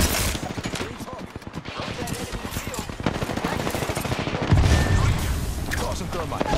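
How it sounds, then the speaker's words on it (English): Sustained automatic gunfire in Apex Legends, fast repeated shots rattling on almost without a break, loud and close, with heavier booming impacts toward the end. "I am taking fire, friends"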